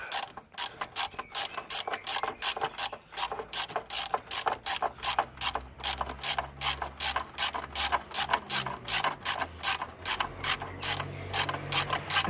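A ratchet on an extension and long 3/8 socket unscrews a bolt during timing belt removal on a Renault Scénic 2 1.5 dCi, giving a fast, steady run of sharp metallic clicks, close and loud, with no talking.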